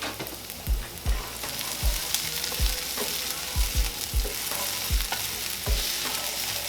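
Minced garlic sizzles with onions and bell pepper in a hot pan, a constant close frying hiss broken by repeated soft knocks of a stirring utensil, no voices.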